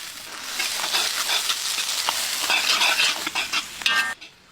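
Shallots and green chillies sizzle and spit in hot groundnut oil in a kadai, a steady dense crackle with stirring scrapes, loud and close, no voices, dropping off abruptly at the end.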